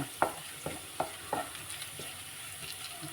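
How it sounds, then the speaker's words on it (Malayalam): Garlic, ginger and curry leaves frying in oil for a quick mango pickle, a steady close sizzle broken by a series of spoon scrapes and stirring knocks, with no voices. "അപ്പം നമ്മളെ വെളുത്തുള്ളിയൊക്കെ മൂത്ത് വന്നിട്ടുണ്ട് കേട്ടോ"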